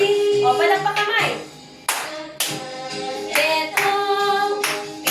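Hands clap in a steady beat of roughly a dozen sharp claps during a children's alphabet lesson, mixed with a sung or chanted melody that carries on throughout.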